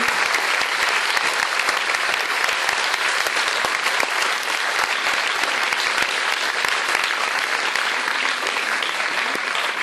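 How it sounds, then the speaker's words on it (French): A crowd applauding at a French film screening, loud continuous clapping from many hands sustained for around ten seconds with no break. "Un tonnerre d'applaudissements pour Julien et Gilles"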